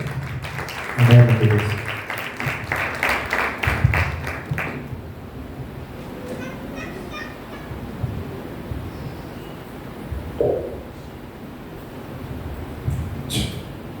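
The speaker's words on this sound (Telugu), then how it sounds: "అందరూ గట్టిగా చప్పట్లు కొడుతున్నారా?" An audience at a church youth retreat claps for a few seconds, a dense burst of applause that fades away into quieter room tone with scattered voices.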